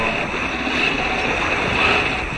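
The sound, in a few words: waves around a sailboat at sea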